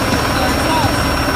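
A Kenworth W900 truck's engine exhaust rumbles loud and close, a steady low idle drone with a voice talking over it.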